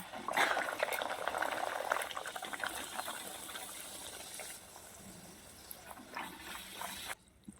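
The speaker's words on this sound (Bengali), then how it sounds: "এখানে তেল গরম হয়ে গেছে আমি আবার একটা একটা করে ভেজে নেব" Moong dal kachori frying in hot oil, a bubbling, crackling sizzle that is strongest at first, settles into a softer steady fizz, then cuts off abruptly near the end.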